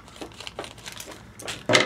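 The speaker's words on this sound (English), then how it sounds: "Need better scissors for this plastic here." Scissors snipping through plastic packaging up close, a handful of short crisp cuts and crinkles in uneven rhythm, with the sharpest, loudest snip at the end.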